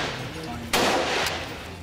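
Gunfire rings out during an army encounter with terrorists besieging a house in Pulwama, a sharp loud burst followed by a sustained noisy crackle of shots lasting about half a second, with a second fainter report after it.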